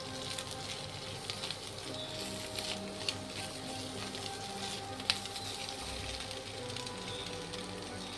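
Fried egg being stirred and mixed in a pan while making fried instant noodles, a steady low sizzle with faint scraping, close and even throughout, no talking.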